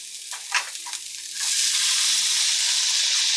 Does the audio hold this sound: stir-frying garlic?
yes